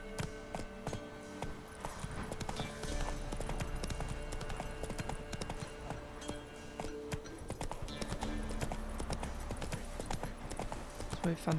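Horse hooves clip-clop steadily in The Witcher 3 as the mount trots along, a continuous rhythmic patter mixed with game ambience and occasional speech over it.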